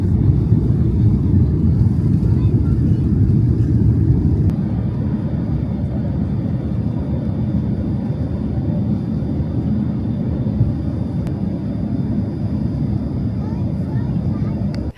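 Loud, steady low roar of an airplane cabin in economy on a big passenger jet flying to Milan, a constant droning rumble that barely changes throughout.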